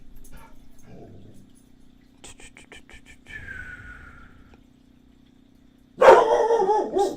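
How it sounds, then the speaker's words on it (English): Watchdogs bark indoors, starting with a few scattered yips and whimpers, then breaking into a loud, sustained burst of barking near the end. "I apologize about my dogs."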